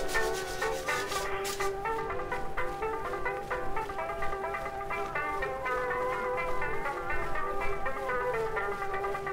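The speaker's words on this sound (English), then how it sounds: "now I go back and sand the ridge" Sandpaper works over the finish on the back of a banjo during a restoration, blending surfaces along a masking-tape edge, in close, steady, rhythmic rubbing strokes.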